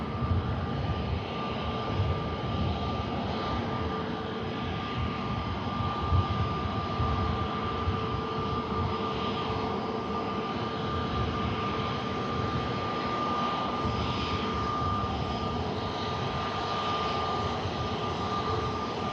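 A KLM airliner's engines at Manchester Airport give a loud, close, continuous roar with a steady high whine riding on top, unbroken for the whole stretch.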